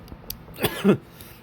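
Voice imitating a cough, a short, close, rough cough-like burst made by a person, heard alone after a few faint clicks.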